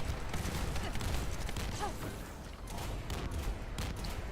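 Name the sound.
explosions in the video game The First Descendant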